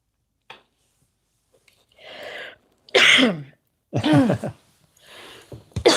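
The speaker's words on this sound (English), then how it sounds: "Oh, my poor baby. Still coughing a bunch." A series of short, harsh coughs and throat-clearing bursts, spaced apart with quiet gaps between, loud and close.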